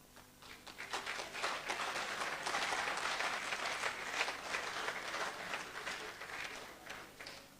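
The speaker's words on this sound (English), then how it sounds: "As for this applause, I will demand more." A conference audience breaks into sustained applause, many hands clapping in a dense, steady wash that swells and holds.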